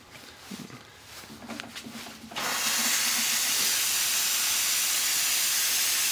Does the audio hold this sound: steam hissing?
yes